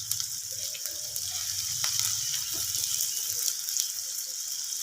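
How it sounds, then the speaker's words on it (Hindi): Chopped onions fry gently in a pan, giving a soft, steady sizzle that stays fairly quiet and even, with occasional faint stirring rattles and no talking. "यहाँ पे मैं डालूंगी प्याज, और इसको फुल ब्राउन नहीं करना, खाली इसका कच्चापन ख़त्म हो जाए"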